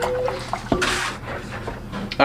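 Ballistic gel powder stirred into cold water makes sloshing, splashing liquid sounds with a few sharp bursts of churning water close by. A voice talks quietly underneath.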